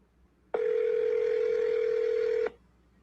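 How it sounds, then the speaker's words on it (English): A telephone call rings out while waiting for pickup, heard as a single steady electronic tone that lasts about two seconds and then stops, clear and alone with no talk. "let's go, Chris. Pick up the phone"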